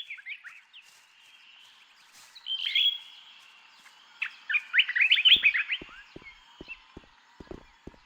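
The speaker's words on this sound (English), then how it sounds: "Bird sounds are pretty intense here." Birds chirp and warble in the video game Gothic 2, bright tweeting phrases rising and falling in bursts, joined later by a run of sharp clip-clop hoof-like knocks.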